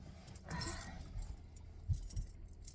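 Keys jangle and clink near at hand in a car parked by old allotments, a short burst then a couple of softer rattles, alone without talk.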